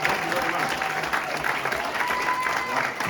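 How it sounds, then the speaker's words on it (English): A comedy club audience claps in a brief, lively burst at an Ann Arbor comedy showcase, with voices and a few cheers mixed into the applause. "You can save those claps"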